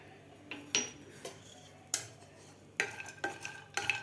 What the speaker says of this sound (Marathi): खोबरं आपल्याला व्यवस्थित भाजून घ्यायचं आहे